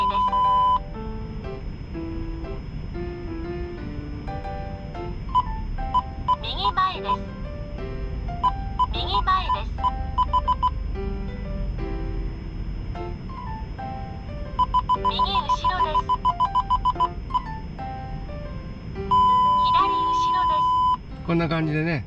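Repeated electronic beeps and short chime-like tones with synthetic voice announcements from a Toyota Voxy Hybrid ZS parking sensor, recurring in bursts over a steady low hum, close and clear.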